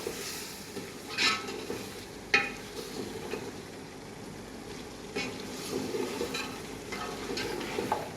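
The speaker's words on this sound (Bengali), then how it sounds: "মশলাগুলো অ্যাড করে পরে হালকা লাড়ে দিতে হইব।" Spices are stirred into meat in a pot while cooking biryani, with soft scraping strokes and occasional sharper knocks over a low, steady sizzle, close and fairly quiet.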